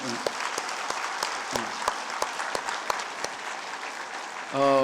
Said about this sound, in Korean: 우리 뜨거운 박수로 환영.